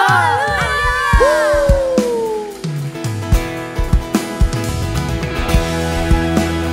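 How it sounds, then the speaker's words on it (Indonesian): A church congregation at an Indonesian Pentecostal worship service cheers and claps for Jesus, with loud crowd whoops and sharp repeated claps over a sustained, musical backdrop. "Engkau yang bersuka cita kasih tepuk tangan buat Tuhan Yesus. Sorakan haleluya."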